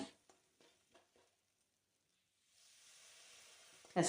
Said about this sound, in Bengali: দিয়ে আরেকটু নাড়াচাড়া করে নিলাম